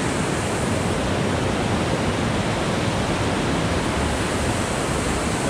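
A waterfall at Amnicon Falls State Park, with the river splitting on two sides, pours in a loud, close, constant roar of rushing water with no pauses.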